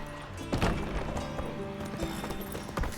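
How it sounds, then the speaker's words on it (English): Horses in The Witcher 3 shift and stamp in a stable, hooves clopping irregularly with a few sharp knocks and faint snorting whinnies in a busy, close mix. "Gotta calm all the horses before they wake the guards."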